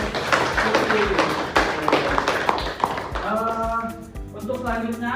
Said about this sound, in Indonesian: Tepuk tangan semuanya untuk Putri.